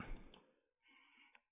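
A computer mouse gives a few short, faint clicks close to the microphone, separated by brief quiet, while editing in PowerDirector.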